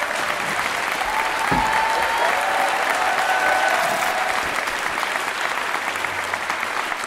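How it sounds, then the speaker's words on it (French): A live audience applauds in a dense, sustained wash of clapping that holds steady throughout, with faint crowd murmur and a voice briefly heard beneath. "On peut l'applaudir, s'il vous plaît."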